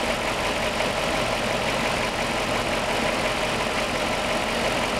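A car engine idles with a misfire on cylinder 6 and trouble code P0306. The sound is a close, continuous rumbling idle with a faintly uneven pulse, and no one speaks.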